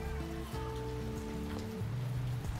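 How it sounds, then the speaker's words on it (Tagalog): Heavy rain pours steadily onto a house terrace as broadband hiss, with faint background music and voices far off underneath. "Sobrang ulan po guys."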